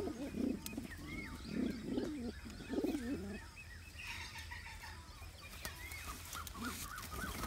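Rampuri pigeons coo in low, throaty bursts three times close by, followed by quieter chirping and twittering from young birds, with faint background bird calls throughout.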